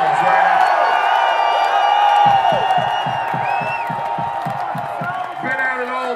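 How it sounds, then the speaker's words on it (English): Concert crowd at a show in a California amphitheater cheering, whooping and clapping loudly and steadily throughout, with a rhythmic burst of claps midway, while the singer speaks over the noise. "Give yourself a round of applause, man."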